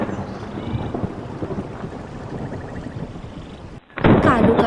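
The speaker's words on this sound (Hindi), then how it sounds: "कालू, मेरा तो शरीर कांप रहा है बारिश में भीग भीग कर, बुरा हाल है मेरा।" Steady rain patters under a rumbling roll of thunder, then a sudden loud crack bursts in near the end.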